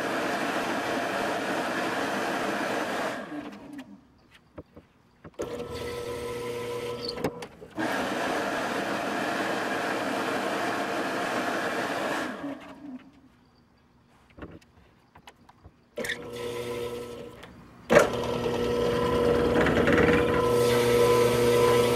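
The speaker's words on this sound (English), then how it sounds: "I'm raising up a little bit more and drilling." Brad point drill bit boring into a wooden fountain pen blank on a lathe, a whirring grinding drone in several bursts separated by quiet pauses, louder toward the end.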